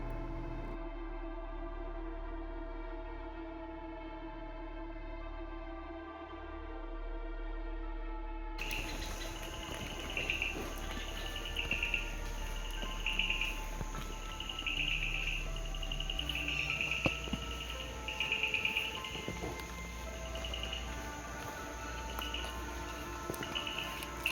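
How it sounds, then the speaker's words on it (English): Bombay bush frogs, also called typewriter frogs, calling in a forest: clusters of rapid, clicking pulses repeat at steady intervals over a dense, continuous insect chorus that begins abruptly after a quieter opening. "A lot of typewriter frogs or the Bombay bush frogs are calling from here."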